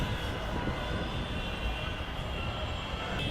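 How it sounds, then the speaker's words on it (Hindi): Metro train pulling into a station: a steady, loud rumble of wheels and motors with a constant high whine, filling the whole stretch without pause. "आ गई मेट्रो."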